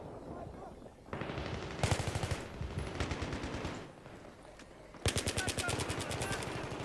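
A suppressed UMP submachine gun in Battlefield 3 fires in several rapid bursts of muffled, clattering shots, mixed into a busy battle soundscape at moderate distance.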